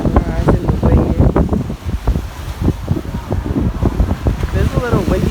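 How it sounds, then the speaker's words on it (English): Steady wind buffets the microphone at a seaside table near the water at an all-inclusive resort in St Maarten, gusting loudly in uneven bursts with surf faintly beneath. "It's a little windy today, but it's still warm."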